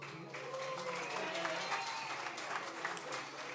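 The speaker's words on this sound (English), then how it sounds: "Let's give a round of applause to Chris Dave." Audience applause for Chris Dave at the Joe Sample Soundstage premiere, a full crowd clapping steadily and densely from start to finish, moderately loud and even throughout.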